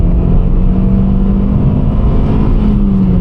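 A car engine revs hard and close toward its red line while driving on a rain-soaked road, a loud, continuous roar whose pitch climbs gradually with no talking over it.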